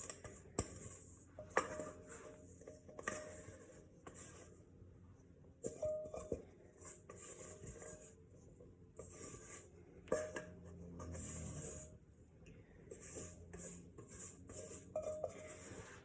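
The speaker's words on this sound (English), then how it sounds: "Now I'm going to scrape out everything that I can out of the bowl with the spatula." Pandesal dough scraped out of a bowl with a spatula, giving quiet, uneven scraping and rubbing strokes with occasional light knocks against the bowl, close but faint, without talk.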